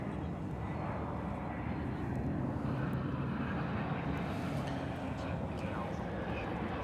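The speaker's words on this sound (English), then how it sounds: "Here comes an American Airlines flight from San Francisco." American Airlines airliner from San Francisco arriving to touch down at Dallas/Fort Worth Airport, a broad low engine rumble and roar at moderate distance, steady with slight swells, with faint talk beneath.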